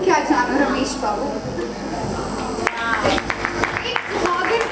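Guests clap together in a brief burst at a child's first birthday party, with the sharp claps stacked under steady, overlapping talk.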